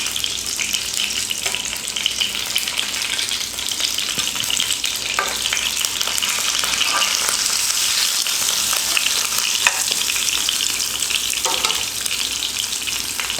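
Sankara fish fries in a pan over a low flame after being flipped, giving a steady, dense sizzle with crackling spits throughout and faint clatters now and then, close and continuous with no voices.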